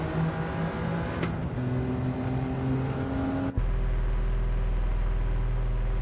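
A race car engine in a racing video game drones steadily at high revs, the pitch shifting as the car changes speed, loud and continuous with no talk.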